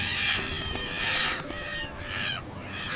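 Crows caw loudly and close by along the sea shore, several harsh calls in a row over wind and ambient outdoor noise, with no talking.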